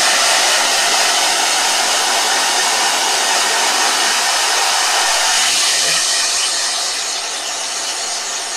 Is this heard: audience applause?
no